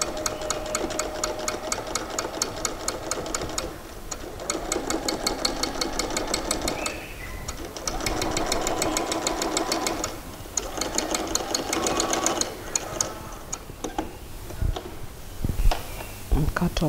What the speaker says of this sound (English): that is how the edge stitching should